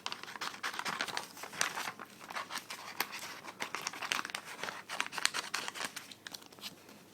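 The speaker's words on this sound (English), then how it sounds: "now that we have colored it, we are going to need to cut this off" Scissors cutting out a colored 3D paper flower, with quick repeated crinkly snips and rustling paper, close and fairly quiet, continuing with no talk.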